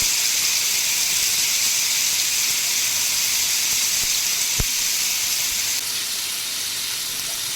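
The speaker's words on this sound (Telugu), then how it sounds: "ఆయిల్ హీట్ అయిన తర్వాత మనం ముందుగా మసాలా పట్టి పెట్టుకున్నటువంటి కండగడ్డ ముక్కలన్నీ కూడా ప్యాన్లో నీట్గా పెట్టేసుకోవాలి" Seasoned elephant foot yam pieces frying in hot oil in a pan, a steady loud sizzle and hiss holding constant throughout, broken by a single sharp pop.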